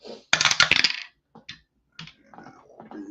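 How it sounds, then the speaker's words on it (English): Dice rattle and tumble during a tabletop APBA baseball game, a loud burst of clattering followed by a few short, lighter knocks as they settle on the table. "need to roll another dice."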